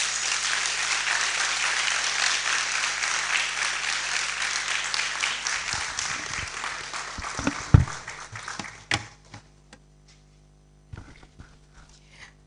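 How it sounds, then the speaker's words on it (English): Loud, sustained applause from an audience at a public university lecture at UCC in Ghana fills the first eight seconds, then breaks into scattered claps and a few thumps before fading to near silence. "with a hand of applause and of course a standing ovation"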